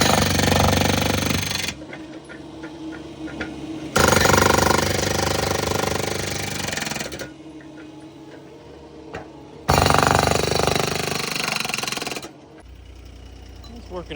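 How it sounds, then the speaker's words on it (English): Jackhammer mounted on a mini skid steer breaking a thin slab of concrete about two to three inches thick, loud sustained bursts of rapid hammering separated by quieter idling pauses, with a voice heard at times. "Hopefully this jackhammer works out with the mini skid."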